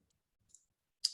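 Two crisp mouse clicks, the first soft and the second sharper, alone against near silence.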